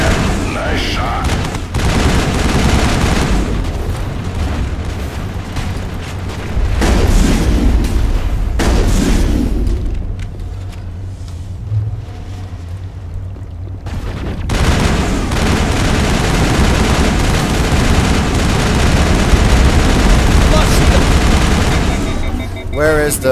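Gunfire and heavy booms from the video game Mass Effect, loud and dense in sustained bursts, with a quieter lull midway before the shooting resumes; a voice talks over parts of it.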